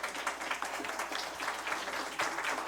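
An audience applauds during a lecture session, a continuous, dense patter of many hands clapping at moderate volume, heard from a short distance without voices.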